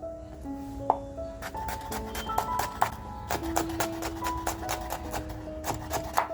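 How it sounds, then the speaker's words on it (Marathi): A knife finely chopping tomatoes on a board in a home kitchen, quick irregular taps that speed into dense bursts, close and fairly crisp. "आपण टॅमॅटो सुद्धा अगदी बारीक कापून घेणार आहोत"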